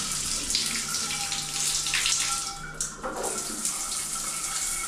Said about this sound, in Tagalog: Telephone hand shower. Yung sa faucet.